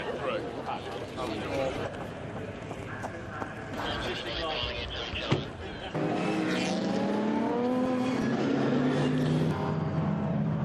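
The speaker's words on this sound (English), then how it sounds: "as the cars are on grid, they're beginning to leave grid now" GT race cars pulling away from the starting grid at Silverstone during a British GT Championship round, engines droning and rising under a commentator's steady talk, growing louder and more layered toward the end.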